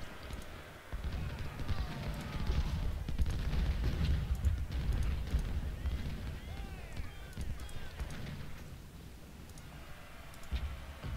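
Civil War artillery in Ultimate General: Civil War fires in scattered booms and pops amid busy battlefield clatter, with someone talking over it.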